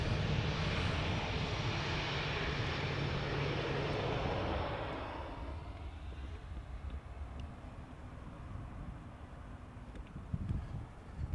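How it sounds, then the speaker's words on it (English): A Delta Airbus A330 heavy jet takes off from Amsterdam Schiphol, its loud engine roar fading after a few seconds into a lower distant rumble. "Now there was also a heavy taking off. I heard something spool up. Seems to be a Delta A330 taking to the skies."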